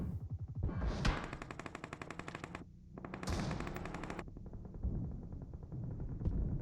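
Rapid automatic gunfire in a shooting video game, heard as long, loud bursts with short pauses between them and a few scattered shots near the end.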